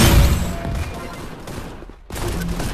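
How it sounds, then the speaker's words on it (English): A shotgun blast in the VR shooter Gun Raiders, a dense loud burst of gunfire and noise that decays, cuts briefly to near silence, then resumes with more firing noise. "Shotgun."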